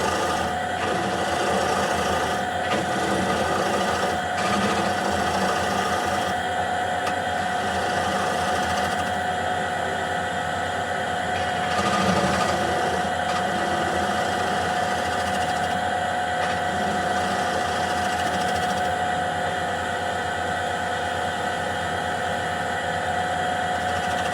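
A wood lathe hums steadily throughout at low speed while a round-bottom bowl is shaped, with a constant close drone and light rhythmic scraping of the tool on the spinning wood.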